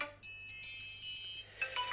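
An iPhone ringtone plays alone, a bright electronic melody of quick repeating chime notes, clear and close, with no other sound.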